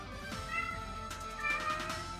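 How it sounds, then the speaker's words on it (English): A cat meows repeatedly in two drawn-out, tonal calls close by, over a steady background hum with no talking. "Oh my god, this cat. He just doesn't shut up."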